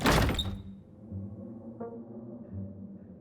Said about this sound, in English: As you reach for the knob, the door swings open.